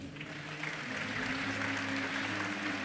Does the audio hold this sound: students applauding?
yes